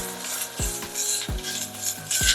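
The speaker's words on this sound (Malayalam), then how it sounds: "നന്നായിട്ട് വറുത്തെടുക്കാം." Pepper powder and spice mixture roasting in a pan for Kerala Erissery, an Onam sadhya curry: a soft continuous sizzle with several sharp scraping strokes of a spoon against the pan, close and moderately loud.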